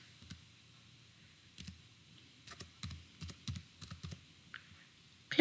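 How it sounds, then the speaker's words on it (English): Date being typed on a computer keyboard with mouse clicks, in a school payroll software session: a few scattered, close, crisp key and click taps in short clusters over quiet room tone. "we click on New, enter our date,"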